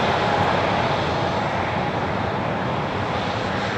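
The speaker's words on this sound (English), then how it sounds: "that A321 looks to me like it's still on the runway" Airbus A321 airliner at Leeds Bradford Airport, its jet engines producing a loud, steady broadband roar that holds constant throughout, with no voices.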